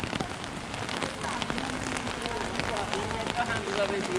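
Steady rain falls on a city street in Salerno, Italy, making a continuous close patter that lasts throughout.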